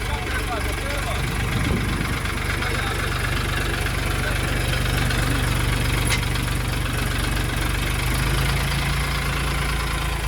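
A Dongfeng DF 244G2B tractor engine idles loudly and steadily, a constant low rumbling drone close by that fills the whole stretch, with faint voices beneath it.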